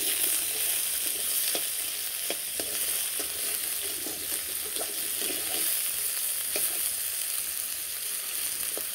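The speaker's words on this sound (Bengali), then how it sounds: "একটু লালচা করে ভেজে নেব।" Vegetables brown in a small amount of oil, producing a steady, near sizzle throughout. Light spatula taps and scrapes break through every second or so.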